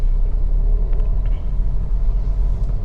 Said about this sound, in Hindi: मैं सेकंड गियर में हल्की सी एक्सीलरेटर ज़्यादा प्रेस करके पुल कर लिया हूँ और अपनी कार आगे बढ़ा लिया हूँ।